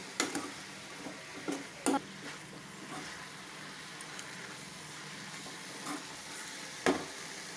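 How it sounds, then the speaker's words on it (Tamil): Drumstick leaves and flowers with rock salt fry in a pan, stirred with scattered sharp scraping clicks over a soft, steady sizzle. "கீரையை நல்லா கிளறி விடலாம்."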